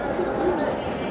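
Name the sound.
pigeons cooing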